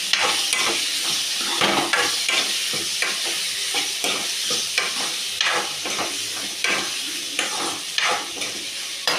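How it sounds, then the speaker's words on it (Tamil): Potatoes sizzle in a hot pan while a utensil scrapes and stirs them in irregular, repeated strokes, close by, as they fry for a potato kurma. "உருளைக்கிழங்கு போட்டு இதையும் நல்லா கிட்டிக்கலாம்"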